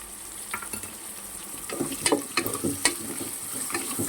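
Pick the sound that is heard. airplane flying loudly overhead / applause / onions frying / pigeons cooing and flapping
onions frying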